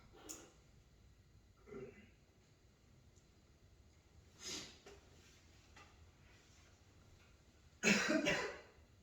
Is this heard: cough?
yes